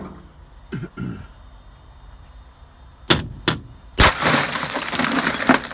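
Glass is broken out of scrap at a scrapyard compound. A couple of faint knocks come first, then two sharp impacts, then a loud shattering crash followed by a sustained crunch and tinkle of breaking glass.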